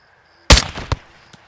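Sniper rifle shots in the Call of Duty: Modern Warfare 2 campaign: one loud, sharp crack after near-silence, then a fainter second report and a third shot cut off at the end.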